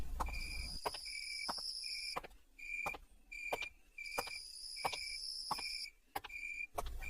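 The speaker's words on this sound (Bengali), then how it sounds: "ঝিঝি পোকার আওয়াজ আসছে" Crickets chirp at night in an open field with trees along a narrow path, giving steady, closely repeated bright trills with short gaps, fairly near and with no voices.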